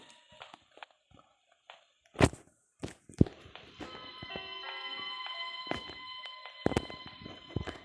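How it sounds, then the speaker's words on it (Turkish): Footsteps in the horror video game Granny Chapter 2 land as a few scattered, fairly distinct thuds over a faint hum, followed by a sustained tonal drone with a couple more knocks; no one talks. "Ayak sesi."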